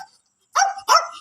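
A puppy on a rural farm gives two quick, high yapping barks close by, each sharp and brief, after a moment of near silence.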